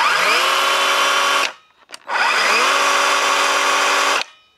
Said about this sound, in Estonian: No vaatame, mis häält teeb.